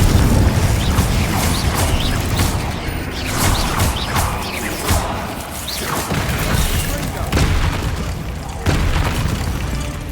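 Repeated Confringo fire-spell blasts in the video game Hogwarts Legacy boom loudly through a dense, continuous battle din, with a voice speaking over the action.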